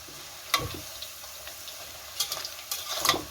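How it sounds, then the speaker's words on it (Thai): French fries fry in gradually heating oil with a soft, low sizzle, broken by a few brief bursts of bubbling or stirring; no one speaks. "น้ำมันเขาก็จะเริ่มเดือดขึ้นเรื่อยๆนะคะ สังเกตไหมคะว่า จะไม่มีน้ำมันแตก แล้วก็กระเด็นให้เปื้อนนะคะ"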